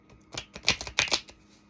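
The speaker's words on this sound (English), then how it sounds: "That was an awful shuffle." Tarot cards are shuffled by hand in a quick, uneven burst of papery riffling clicks and flutters, close and fairly quiet, lasting about a second.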